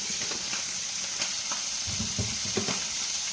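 Coconut oil with curry leaves sizzles over a sardine curry in a steady, soft hiss, with louder crackling spurts near the end as the leaves hit the oil.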